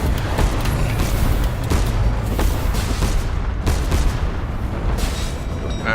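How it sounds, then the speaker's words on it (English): Torpedoes slam into an airship in the Cloud Pirates sky-battle game, a continuous loud barrage of heavy booms and deep rumbling explosions with no pause. "I got hit by torpedoes"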